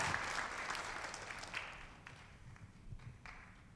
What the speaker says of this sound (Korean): 우리 크게 박수하며 축하합니다.